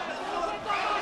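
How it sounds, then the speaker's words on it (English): Crowd at a boxing match between Sergio Wielzen and Emerson Falcão, a steady roar and babble of many voices building with excitement, filling the arena. "Oh, you can hear the crowd now getting hyped up"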